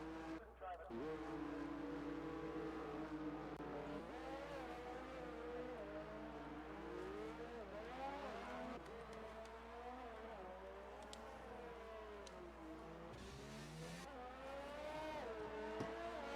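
A McLaren race car drones through an outlap at Monaco in a racing video game, its engine whining up and down through the gears in continuous pitch sweeps, heard faintly under a commentator's steady talk.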